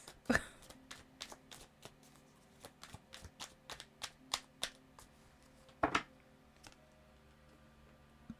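Tarot cards are handled and shuffled in a quiet room, making a series of crisp, irregular paper snaps and flicks with a louder cluster near the start and another near the end.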